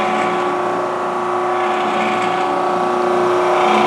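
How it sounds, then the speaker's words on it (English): An oscillating spindle sander with a turning disc runs at a steady, loud motor hum, its spindle oscillating, with a constant drone and a faint whine throughout and no pauses. "We turn this machine on by turning the switch on, and you see the spindle oscillates and the disc is also turning."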